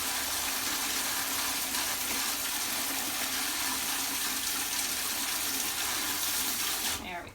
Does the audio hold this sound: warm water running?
yes